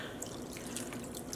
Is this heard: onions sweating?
no